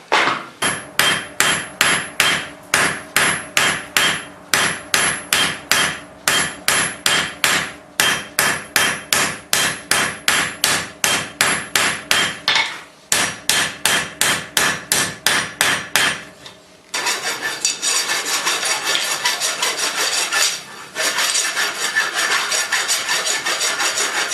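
A hammer strikes hot steel on an anvil while bolt jaw tongs are forged: rapid, regular, ringing blows in several long bursts, close and loud, followed by a rough scraping rasp.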